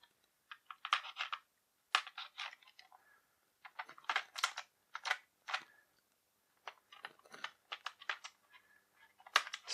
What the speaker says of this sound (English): let's go ahead and slice some tape while we're at it